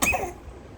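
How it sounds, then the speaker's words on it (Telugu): One short, squeaky cough from a cat bursts out close by, then fades into quiet. "దగ్గుతాయిందిరా."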